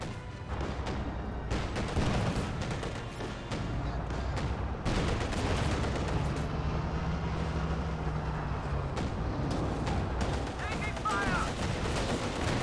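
Battle gunfire in the Company of Heroes video game, made up of dense continuous rifle and machine-gun shots and distant booms that layer into a steady loud combat din with no pauses.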